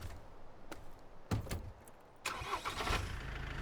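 A Land Rover 90 engine from the off-road driving game Snowrunner, set in White Valley, starts up and rumbles, with a couple of loud clunks and then a rise to a steadier, busier engine running sound.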